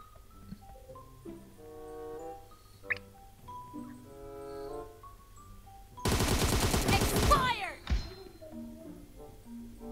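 Gunfire in the mobile battle game PUBG Mobile Death Match: a dense, loud burst of rapid automatic shots erupts after quieter game sounds and tonal beeps, then cuts off abruptly.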